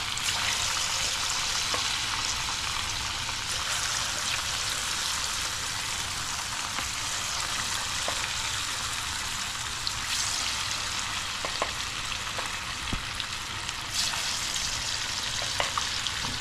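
Homemade crispy kebab pieces deep-frying in hot oil, a steady, close, dense sizzle and crackle that runs unbroken throughout, with a few sharper pops and light clinks on top and no talking.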